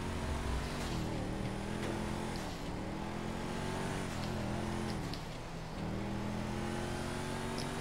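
An off-road vehicle engine in a video game drones steadily and loudly, revving with slight pitch rises and dips throughout, with no voices over it.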